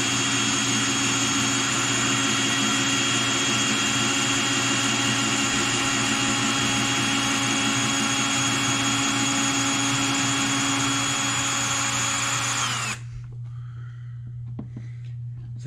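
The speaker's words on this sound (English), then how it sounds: "I love my Ryobi drill." A Ryobi power drill running at full speed, a loud steady high-pitched motor whine with a constant hum that cuts off sharply near the end, leaving quieter background.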